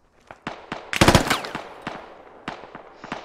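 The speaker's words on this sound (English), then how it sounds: "There's some fucking dude shooting at me from up there." Gunfire from an enemy on a rooftop in the military shooter Squad: scattered single shots, then a loud close burst of automatic fire around the middle, followed by more sporadic cracks fading off.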